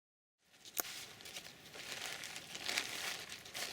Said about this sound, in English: I'm sure if I just wrap the fish enough turns with enough leaves, it should be okay.